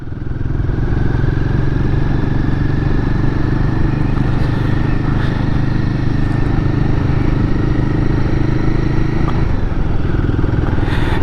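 A Royal Enfield Guerrilla 450 motorcycle with a BMC air filter rolls along at slow speed, its engine giving a loud, steady, close rumble with a slight change in tone near the end.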